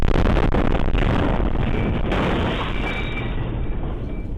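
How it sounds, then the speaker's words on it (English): An RV bomb detonates in downtown Nashville, a huge, loud blast that fills the recording with a dense roar and then slowly rumbles and fades away. "That is the sound of sheer terror in the magnitude of that explosion."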